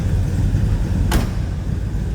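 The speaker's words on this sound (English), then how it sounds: "That door closes nicely, doesn't take much to close it either." A single quick thud of a 1968 Chevrolet Chevelle Malibu door shutting, a brief sharp burst over the steady low hum of its idling small-block V8.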